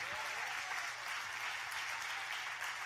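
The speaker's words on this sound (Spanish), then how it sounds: "Dale ese aplauso a Dios si lo recibes." Church congregation clapping during a Spanish-language sermon, a soft, even patter of many hands that sounds distant and continues without a break.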